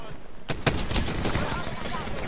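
A semi-automatic gun fires in the video game Apex Legends, a sudden opening shot followed by a few rapid reports under a dense, noisy battle wash, with talk in the background.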